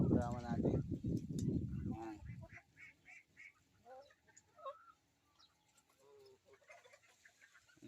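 Brahma chickens cluck and call in a backyard flock, with someone talking loudly nearby at first, then scattered, fairly quiet bird calls continuing after the talk stops.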